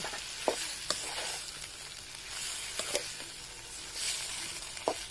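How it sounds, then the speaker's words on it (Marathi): Fish frying in a pan for a traditional Konkan village recipe: a soft, steady sizzle with a few light scraping taps, fairly quiet and close, with no talking. "आणि थोडीशी ती फ्राय करता"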